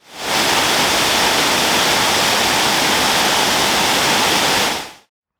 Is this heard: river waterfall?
yes